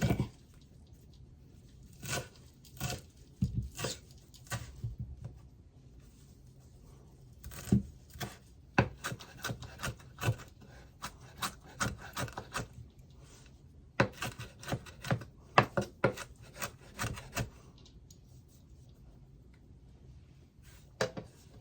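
A kitchen knife chops coriander stems on a board in irregular bursts of crisp, close cutting strokes with pauses between runs, all without talk.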